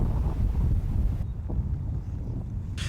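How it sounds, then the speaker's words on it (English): Strong wind buffets the microphone across an open field during a shooting outing, a loud steady low roar that stays heavy throughout with brief higher gusts, and no voices. "With no shelter, we now have the full force of the wind to contend with"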